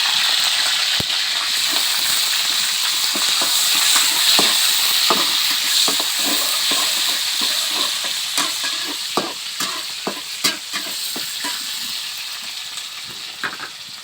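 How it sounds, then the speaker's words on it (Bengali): Chopped onion and green chilies fry in hot oil, a steady loud sizzle with frequent scraping stir clicks of a utensil against the pan, no voices. "একটু ভাজা ভাজা করে নেব।"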